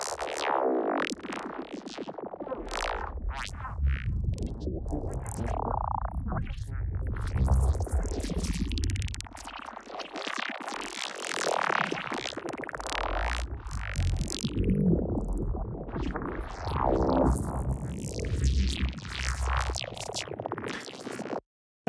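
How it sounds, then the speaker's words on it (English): Four stacked granulators produce a dense, layered granular texture that sustains continuously at steady loudness, with shifting smeared grains swelling and receding across the whole span and no voices. "it usually results in like a more complex layered sustain sound like this"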